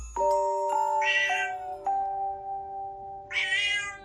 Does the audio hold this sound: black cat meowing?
yes